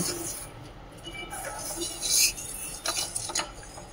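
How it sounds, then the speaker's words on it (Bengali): A utensil stirs chutney with added lemon juice in a pan off the heat, giving soft scraping and clinking scrapes in short bursts, faint and close with no talk. "একটু লেবু দিয়ে দিলাম, দিয়ে মিক্স করে নেব"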